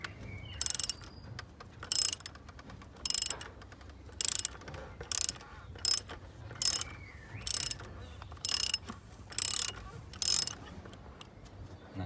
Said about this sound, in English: So now we'll just use this socket, 32mm, and put it on here, and we just untighten that.